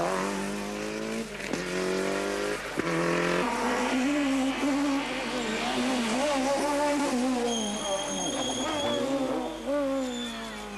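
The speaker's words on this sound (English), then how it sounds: "As through goes the Mazda of Gudezern, second overall, but still suffering difficulties with his suspension" A Mazda rally car running second overall with suspension trouble roars past on a 1997 Rallye des Géants French rally stage, its engine loud and close with a rising, sustained whine and no talk.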